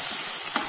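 Tomatoes go into a sizzling tempering in a pan for kalyana rasam, a brief burst of close, hissing fry with a sharp spike near the end.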